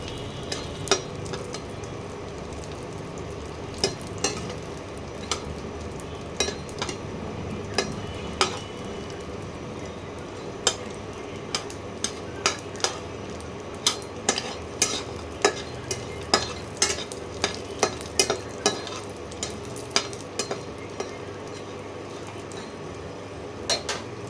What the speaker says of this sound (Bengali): অল্প করে বড়িগুলো একটু ভেজে নিতে হবে।